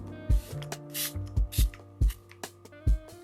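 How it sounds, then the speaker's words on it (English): Primark Pro Beauty makeup setting spray is pumped in several short, close, crisp bursts, each a quick hiss with a small click from the nozzle, alone with no talk. "I'm going to be setting my makeup with the Primark Pro Beauty Setting Spray"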